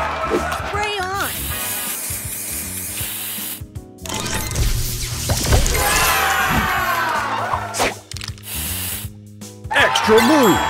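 Spray effect from the mobile match-three puzzle game Color Crush, a bright hissing whoosh layered over busy game music and chiming effects, with a game voice announcing moves.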